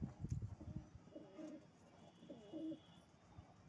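A Kalsara pigeon of Pakistani breed coos close by in two low, rolling phrases, soft and faint, with a brief rustle at the start.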